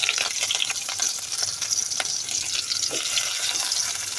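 Sliced onion sizzles in hot mustard oil, a dense crackling fry with scattered pops and faint clinks, steady and close throughout with no talking.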